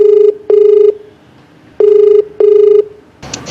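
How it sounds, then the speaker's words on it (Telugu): Telephone ringback tone on an outgoing call, four loud, steady electronic rings in two paired bursts with short gaps, ending as a line noise cuts in. "కాల్ చేస్తానండి."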